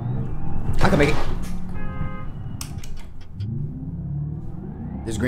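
A Porsche Cayenne engine revs and accelerates nearby with a rising whine, mixed with road noise and a brief burst of voices.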